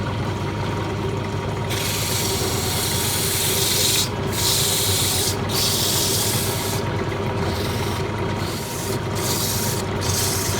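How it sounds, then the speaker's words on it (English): A wooden Christmas tree is sanded by hand, a steady, close rasping hiss of abrasive on wood with brief pauses between strokes and no talk. "So we'll give it a little bit of sand up next."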